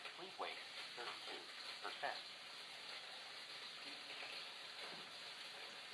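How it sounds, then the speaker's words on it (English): Food sizzles as it fries in a home kitchen, a steady soft hiss running through the whole stretch with faint clatter and a little distant voice in the background. "My mom is cooking"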